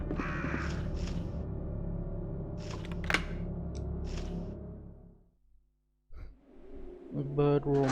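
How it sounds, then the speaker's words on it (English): Crows cawing in the bird room of the Resident Evil 2 video game: several harsh caws over a low ambient drone, a brief near-silence, then more caws at the end, with a player's voice at times. "This is the room of the birds."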